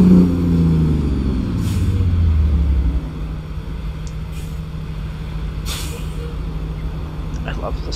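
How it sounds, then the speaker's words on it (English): An in-game American truck sheds speed with a loud descending engine-brake rumble for about three seconds, followed by a lower idling drone and a few short air-brake hisses. "Like the brakes and stuff, the Jake brake, like it's not too high volume, too low volume."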